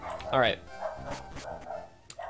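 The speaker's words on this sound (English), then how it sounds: "if you hear a dog in the background barking, that is my dog" A dog barks in a quick burst of yips near the start, then fainter whimpers and barks follow in the background while someone speaks briefly over it.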